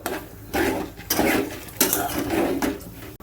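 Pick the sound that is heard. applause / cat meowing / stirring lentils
stirring lentils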